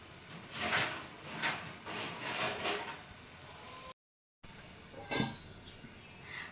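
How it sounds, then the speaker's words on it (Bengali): A cover set over a pot of sweet yogurt in a kitchen, with close wooden and metal scrapes and rubbing, a brief silence, then one more clatter as it settles. "এবার আমি আমার এই দইয়ের পাত্রটা বসিয়ে দিলাম এবার উপর থেকে আর একটা চাপা দেবো"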